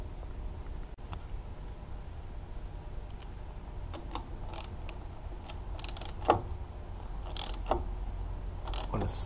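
Faint metallic clicks and creaks of a bracket clamp being snugged onto an Atlas drill press, scattered light taps over a low steady background hum, near and quiet.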